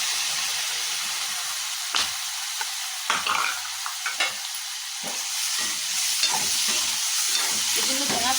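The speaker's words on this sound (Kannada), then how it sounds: "ಫ್ರೈ ಮಾಡ್ಕೋಬೇಕು ಟೊಮೊಟೊ ಎಲ್ಲ ಸಾಫ್ಟ್ ಆಗಬೇಕು" Chopped tomatoes fry in oil in a pan for egg masala, a steady close sizzle broken by repeated scraping stir strokes and clatters.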